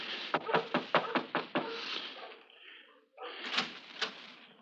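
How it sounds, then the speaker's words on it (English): Door closed in a 1952 radio drama adaptation of The Thirty-Nine Steps: a quick series of sharp knocking or latching thuds, then a quieter shuffle and a second burst of clattering movement, close and fairly loud with no talk. "I'll just close the door after you."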